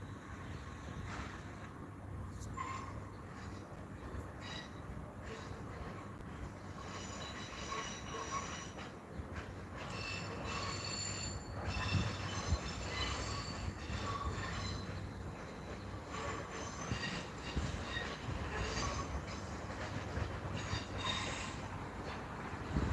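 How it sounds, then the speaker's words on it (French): A rail yard in Bordeaux with a small green diesel shunting locomotive rumbling at a distance, metallic clanks and wheel squeals scattered through a continuous low drone. "nous avons une loco verte diesel qui fait souvent des manœuvres"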